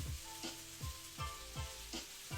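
Butternut squash and onions fry in a pan, a soft continuous sizzle punctuated by a regular series of about six scraping stir strokes, close and unaccompanied by speech.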